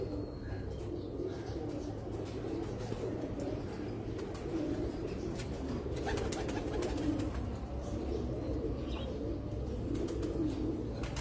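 Pigeons coo softly and continuously in a loft, low repeated burbling calls at moderate distance over a steady background hum, with occasional faint chirps and no talk.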